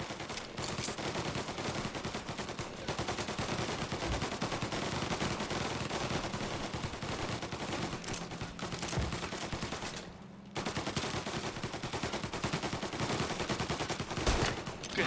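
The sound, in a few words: gunfire in the video game Mafia: Definitive Edition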